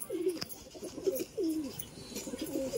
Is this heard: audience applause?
no